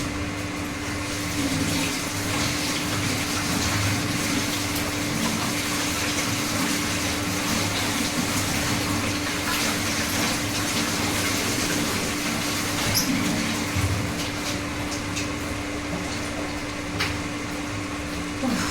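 Water runs continuously from a tap in a home kitchen while something is rinsed, a steady close rushing stream with a constant hum underneath and occasional splashes.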